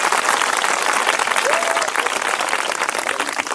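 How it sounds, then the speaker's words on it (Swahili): Schoolchildren at Lutozo primary school burst into loud, dense applause that stays steady and close throughout, with a brief voice cutting through the clapping. "Piga makofi mengi kwa shule."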